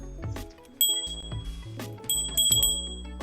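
Small bell rung repeatedly in the game Cities: Skylines, several bright ringing strikes at uneven intervals over low background music, close and clear.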